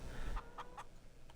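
Chickens in Farming Simulator 22 give three quick, soft clucks in a row and a fainter fourth, set against low rumbling background noise with no talk.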